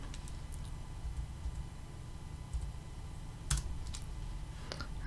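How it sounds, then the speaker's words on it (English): Typing on a computer keyboard gives a quiet, irregular run of light key clicks, with a few sharper taps standing out over a low background hum. "And then we could type Samantha."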